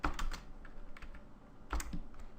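Close, crisp keyboard typing as Java code is entered, a handful of quick key clicks in two short clusters over a quiet background with no voices.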